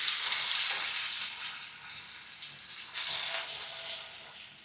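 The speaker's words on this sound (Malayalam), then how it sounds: "അതിന് ഫസ്റ്റ് നമുക്ക് ഫിഷ് ഫ്രൈ ചെയ്യണം" Fish frying in hot oil for a fish dum biryani, a steady crackling sizzle close up with a brief surge near the middle, no voices.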